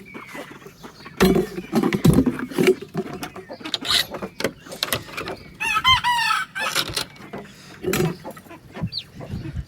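A hen clucks in repeated short bursts and intermittent higher calls, fairly close, mixed with scuffling and handling noises between the bursts.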